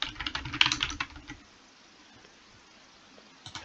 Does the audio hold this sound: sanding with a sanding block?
no